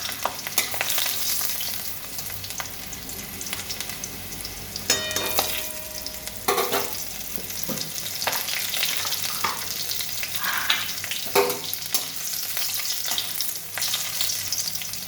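Oil sizzles and crackles steadily throughout as dried chillies, green chillies and whole garlic fry, with occasional scraping and clinking of a utensil stirring close by.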